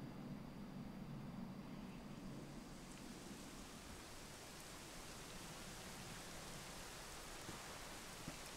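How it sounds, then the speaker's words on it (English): Rain falls steadily in Dragon Quest XI S, a dense even hiss of rainfall with a low rumble underneath, continuous and alone throughout. "it was raining like this the last time I ever saw her"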